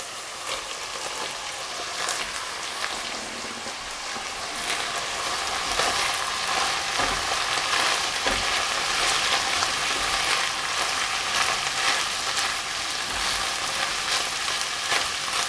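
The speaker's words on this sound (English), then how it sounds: "I'm going to add in my leeks and sweat those off." Leeks and pancetta sweat in a hot pan, giving a steady, loud sizzle and crackle that runs unbroken throughout with no talking.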